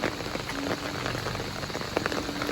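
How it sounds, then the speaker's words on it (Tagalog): Heavy monsoon rain pours down steadily in the evening at a flooded town market, a dense continuous hiss of drops striking surfaces with no breaks. "Sana huminto na yung ulan"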